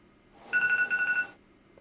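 During a test call, a single short burst of telephone ringing sounds: a rapid, evenly pulsed electronic trill that comes in, lasts under a second and stops, with near silence around it.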